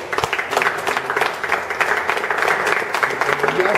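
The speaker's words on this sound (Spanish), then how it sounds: "le demos un fuerte aplauso" An audience gives a loud, sustained round of applause of dense, steady clapping at a gathering honouring officials of a prosecutor's office.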